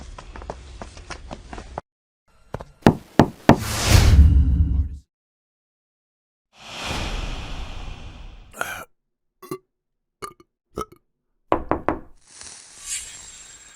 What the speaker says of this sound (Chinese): 我来敲门